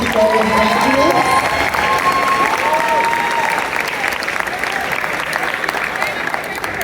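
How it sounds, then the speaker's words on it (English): Audience at a middle school graduation ceremony applauding the second enrollment graduates: steady, dense applause from a large crowd with some cheering, continuous throughout, with a voice speaking over it early on. "give a round of applause for our second enrollment graduates"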